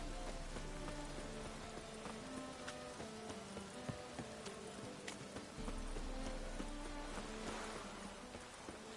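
Steady rain in The Witcher 3: Wild Hunt, a dense, even hiss of drops across the whole scene with faint scattered ticks on surfaces and a low rumble beneath, continuous and fairly soft, with no talking.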